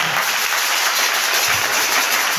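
A church congregation bursts into dense, sustained applause and cheering in acclaim of Jesus, loud and continuous throughout.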